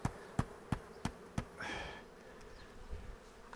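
Honey bees buzzing around beehives, a faint buzzing drone passing through while a row of five sharp knocks or taps sounds near the start, with no voices.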